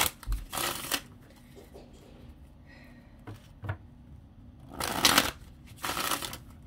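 Tarot cards are shuffled in brief separate bursts of close rustling and riffling, with quiet pauses and small handling noises between them.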